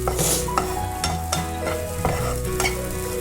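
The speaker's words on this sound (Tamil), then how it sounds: "நான் தேங்காய் போட்டிருக்கேன், அதனால தான் நான் நார்மல் எண்ணெயிலேயே நான் வந்து தாளிச்சிடுறேன்." Mung dal sundal is tempered in ordinary oil with coconut, the sizzle running steadily while a spoon scrapes and stirs the pan in repeated strokes, close and fairly loud, with no talk.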